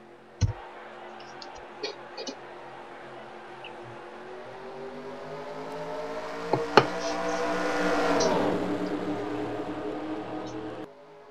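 NASCAR Sprint Cup stock cars at Talladega for the Aaron's 499 start, a field roaring off toward turn one as engine drone builds steadily into a loud sweeping pass, with a few sharp knocks early on and no talk.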